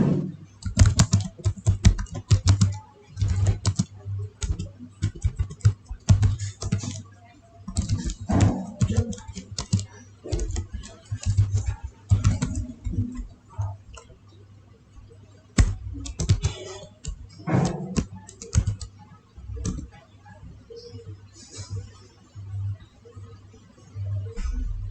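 Close, rapid typing on a computer keyboard, key clicks coming in uneven bursts separated by short pauses.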